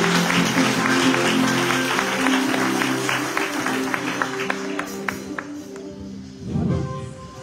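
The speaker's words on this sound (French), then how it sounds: "Sous vos applaudissements, s'il vous plaît." An audience applauds at a Haitian graduation ceremony, a steady dense roar of clapping that runs for several seconds over a sustained tonal backdrop before briefly swelling again near the end.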